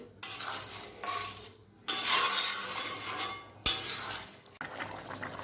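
Chana dal being stirred in a pot with slit green chillies and sugar for Bengali cholar dal, giving bursts of scraping and rubbing strokes separated by short pauses, close and moderately quiet, without speech.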